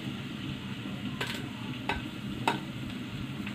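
Cumin and crushed garlic sizzling softly in hot oil for a tempering, with a few sharp clinks of a utensil against the pan.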